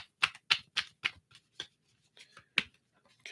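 A deck of tarot-style reading cards is shuffled by hand in a quiet room, making a series of crisp, close riffling snaps in quick bursts with short pauses between.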